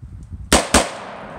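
Two sharp carbine rifle shots fired as a quick hammer pair on a shooting range, loud and close, each a hard crack with a short decaying echo.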